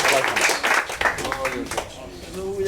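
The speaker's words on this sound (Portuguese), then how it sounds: "Uma salva de palmas para o Senhor Jesus." A church congregation at a recovery-house service claps under a preacher's loud voice, the applause dense at first and then fading while the talking carries on.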